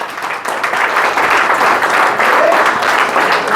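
Applause breaks out for a woman celebrating her 70th birthday at a surprise party, a dense, steady clapping from a close indoor crowd that holds strong throughout.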